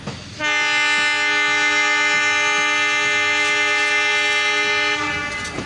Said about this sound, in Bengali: 41 কাঞ্চন কমিউটারের লিডে রয়েছে WDM 3D তেলখোর লোকোমোটিভ